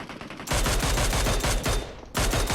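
A Mini-14 rifle fires in PUBG Mobile, a loud, close run of rapid shots cracking in quick succession, a short pause, then another burst starting up.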